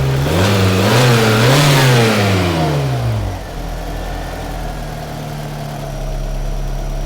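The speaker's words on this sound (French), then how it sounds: "Lorsque j'accélère, après, le ralenti redescend bien en place." A Volkswagen Corrado G60 engine revs up in several rising and falling bursts, then drops back and settles into a steady, low idle, running alone at close range.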